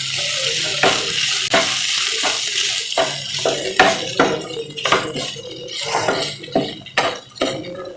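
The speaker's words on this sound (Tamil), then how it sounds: "பீட்ரூட் நல்லா வெந்துட்டு இப்போ தேங்காய் துருவல் போடலாம்." Grated coconut stirred into beetroot poriyal cooking in a pan on a low flame, a soft steady sizzle broken by repeated scraping strokes of a spoon against the pan, close and fairly loud.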